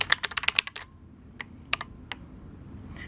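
Keys clicking on a Redragon K589 low-profile mechanical gaming keyboard: a quick burst of crisp, close taps, then a few sparse isolated clicks over quiet background hiss.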